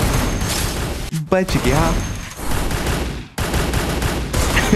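Rapid gunfire bursts from a close fight in Garena Free Fire rattle on steadily, with brief gaps, while someone talks over them in Hindi.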